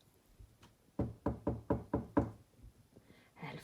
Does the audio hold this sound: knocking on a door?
yes